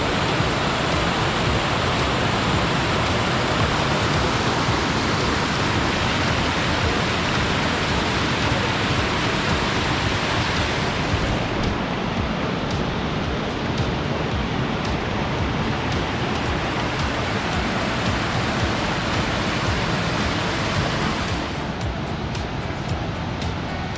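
Rushing water of the Arroyo de la Requesada flowing beside a forest trail in Asturias, the stream washing over the path, a loud, dense, continuous roar with no pause.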